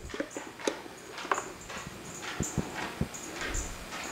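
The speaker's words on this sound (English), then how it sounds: "in case you hear the little pitter-patter of a dog" Light, irregular tapping steps, like a dog's paws pattering across a hard floor, scattered clicks close by with a faint background hum.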